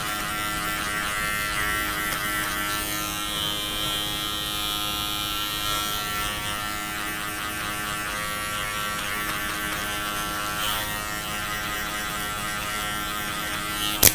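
Electric hair clippers buzz steadily and continuously while cutting hair for a mohican haircut in a men's salon, a close, constant motor drone without talk.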